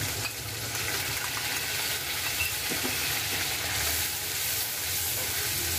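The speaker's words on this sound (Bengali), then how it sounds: "পেঁয়াজটা আমি কিছুক্ষণ ভেজে নেব।" Onion paste frying in oil with fenugreek and nigella seeds for a koi fish malai curry, a loud, steady sizzle with stirring that runs unbroken and close, with no voices.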